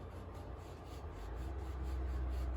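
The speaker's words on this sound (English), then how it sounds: "rubbing the bamboo cane in the soil to mark a row" A bamboo cane scrapes through soil in a polytunnel bed to mark a planting row, giving a soft, continuous gritty rubbing that grows slightly louder.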